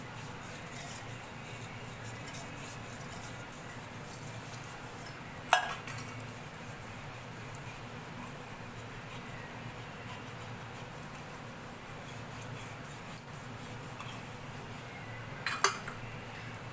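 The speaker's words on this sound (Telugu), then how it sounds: "ఆ వాడిన చింతపండుతోనే మనం ఇలా పూజ గిన్నెలను అయితే తోముకోవచ్చు" Faint scraping and rubbing of metal puja vessels scrubbed with used tamarind, with a few soft clinks and knocks breaking through the steady, quiet background.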